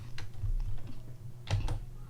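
Soft keystrokes on a computer keyboard click in a few quick clusters, close and quiet over faint room hum.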